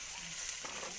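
Sliced onions with green chillies sizzle in a hot pan, a dense, even frying hiss with a faint scrape of stirring near the middle, close and steady through the brief moment.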